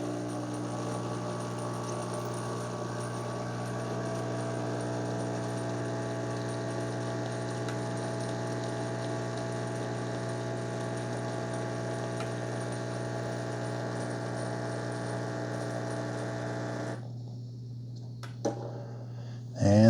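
Mr. Coffee One-Touch CoffeeHouse EM6701SS espresso maker pumping espresso, a steady close buzzing pump hum that runs unbroken for most of the time before cutting off, followed by a brief clatter.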